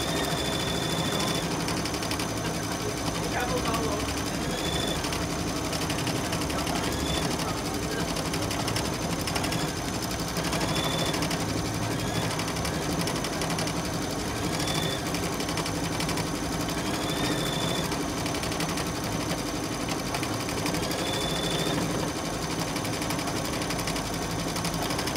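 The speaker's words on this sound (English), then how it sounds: "I just hit my start button, and it's going to do an outline right around the outside of the flower" An embroidery machine stitches an outline around a flower on hooped fabric, giving a fast, steady mechanical whirring and rapid needle clatter, with periodic higher chirps as the thread moves, continuous and close with no talk.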